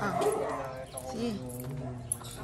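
A dog yips and barks in short bursts while people talk over it in the foreground.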